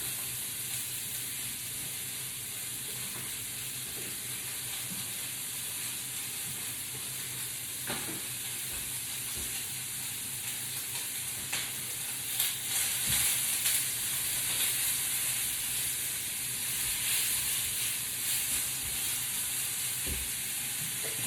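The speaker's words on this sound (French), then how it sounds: "pendant que les lardons ils cuisent" Lardons fry in a pan with a steady, dense sizzle and hiss running throughout, with occasional faint clicks and stirring knocks on top, no voices.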